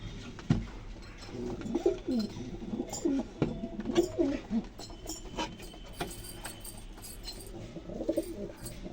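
A pair of breeder pigeons coos in repeated low, throaty phrases, close and clear, with soft shuffling and patter between the calls.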